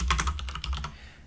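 A quick burst of keystrokes on a computer keyboard, about eight close clicks in a rapid run that stops abruptly.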